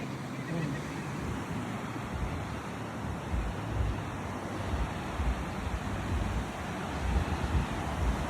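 Waves wash steadily onto Tambungkay Beach on San Pedro Island, a continuous rumbling surf mixed with gusty wind buffeting the microphone, with no break throughout.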